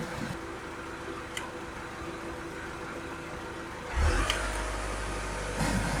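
A Mitsubishi Fuso Canter with the 4P10 Euro 5 engine runs steadily during a manual DPF regeneration, a continuous close engine drone that rises in level near the end as revs climb.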